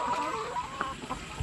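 Free-range laying hens kept loose on a small home farm cluck softly in short, scattered calls, with several birds close by and no talk.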